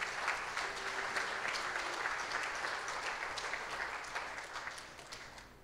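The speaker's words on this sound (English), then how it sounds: "could we give Lily a round of applause?" A church congregation at a Sunday service gives a round of applause, a fairly quiet, even spatter of clapping that holds for a few seconds and fades gently at the end.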